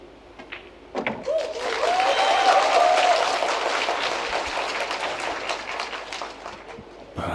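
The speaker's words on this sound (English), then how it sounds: "he hears all that cheering and whooping and hollering for him" A crowd at a 10-ball pool world championship match bursts into loud cheering and whooping that swells quickly, holds for a few seconds, then slowly tapers off.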